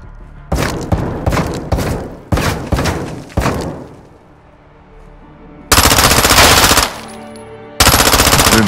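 Loud video game gunfire from Modern Warfare 2 in a cartel compound firefight, with several quick rifle bursts followed by long, dense sustained automatic fire, separated by a brief quiet gap.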